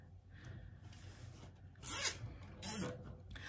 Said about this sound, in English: So I am going to just zip tie these corners together.